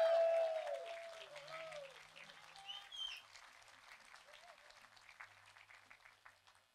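Applause at a Veterans Day ceremony for General Berry and the National Guard, loudest at the start and then thinning to scattered claps that fade out, with a few faint voices mixed in.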